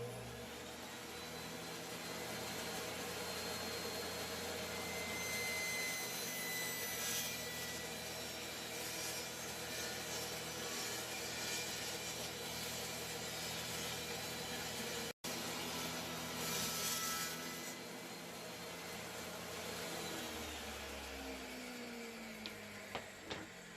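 A table saw cuts a groove into wood for a mirror frame, a steady faint whining hum of blade and motor with slight grinding texture, running continuously before a brief cutoff and spin-down near the end.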